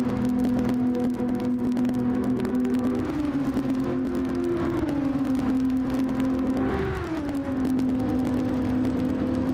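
A racing car engine from a racing video game at a gaming convention esports race drones loudly and continuously, its pitch dipping and climbing again around two gear or throttle changes, with no voices.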